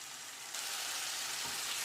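Ground masala paste for a Kerala-style tuna fish curry sizzles hard as it hits a hot pan, a loud steady frying hiss that swells after a brief quieter start, with faint stirring scrapes beneath it.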